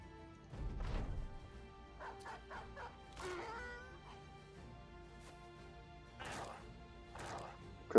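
A dog in the video game Battle Brothers barks and yips in short bursts amid combat clatter and crashes, fairly faint, with a few whimper-like sounds between.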